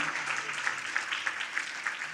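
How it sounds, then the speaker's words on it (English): Applause from a fundraiser crowd honors donors during a paddle-raise auction, a brief, fairly soft spatter of many hands clapping with no clear voices over it. "Big round of applause to all of our donors thus far."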